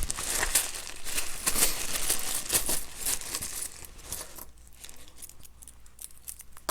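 Scissors snip and tear open a plastic bag, with close, crisp crinkling and rustling bursts that settle into quieter handling toward the end.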